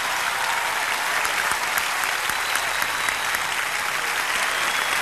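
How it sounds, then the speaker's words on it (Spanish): Audience applause at a live concert, a thick, continuous wall of clapping from a large crowd, even and sustained throughout, with no voice standing out above it. "fuerte el aplauso"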